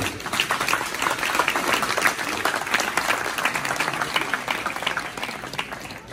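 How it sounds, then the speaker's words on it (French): Audience at a graduation ceremony of a Christian university in northern Haiti applauding the parents, a dense, steady burst of clapping from many hands lasting throughout and tapering slightly at the end. "Est-ce que vous voulez applaudir les parents avec nous?"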